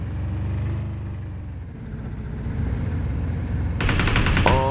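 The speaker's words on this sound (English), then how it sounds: "Gun sound in the left side." Gunfire in a battle royale shooter rattles off in a steady automatic burst, moderately close, followed by a sharper, louder volley of shots near the end, with no one talking over it.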